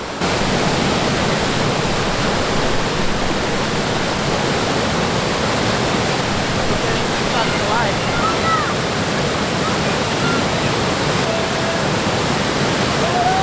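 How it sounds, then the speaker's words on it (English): Mackenzie Falls in the Grampians, Australia roars steadily, a dense, constant rush of falling water filling the whole clip at close range. "Mackenzie Falls is the first waterfall on this walk from the car park."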